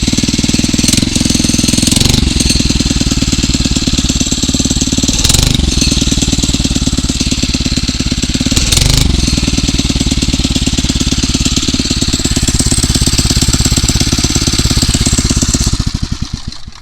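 A Phatmoto Rover 79cc motorized bicycle engine runs with a loud, close, rapid two-stroke putter, holding a steady idle with a few brief revs before cutting off at the end.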